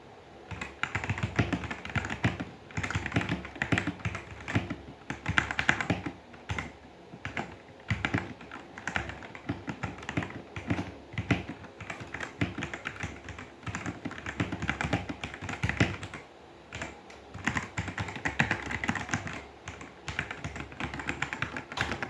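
Typing on a Machenike K500A-B84 mechanical keyboard, a close, continuous run of crisp clacking keystrokes in uneven bursts with brief pauses, no voices.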